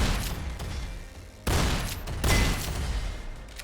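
Gunfire from the video game Synthetik 2, a few loud shots with sharp onsets around the middle over a steady, dense bed of game noise, with no talking.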